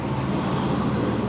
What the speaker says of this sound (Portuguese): Parece que eu sei qual carro está passando.